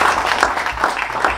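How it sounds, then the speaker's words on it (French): A workshop audience at a resilience and emotional intelligence session applauds itself: a short, dense burst of steady clapping from the crowd, fairly loud and without speech. "Applaudissez pour vous."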